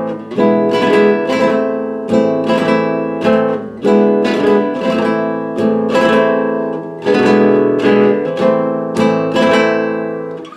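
Acoustic flamenco guitar strums a slow sevillanas rhythm, with repeated rasgueado chord strokes in an even, unhurried pattern, loud and close with no voices.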